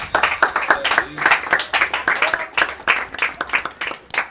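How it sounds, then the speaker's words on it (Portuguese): A small group claps rhythmically in a lively Christian podcast setting, brisk hand claps repeating steadily throughout, with voices calling out over the clapping. "Uma salva de palmas, gente."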